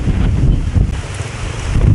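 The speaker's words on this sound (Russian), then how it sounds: "Сейчас ветрище." Strong wind roars steadily against the microphone at an outdoor motorcycle rally, a dense rumbling gust noise with no voices.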